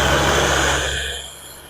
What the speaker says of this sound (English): There, and the little motor on. And blend again.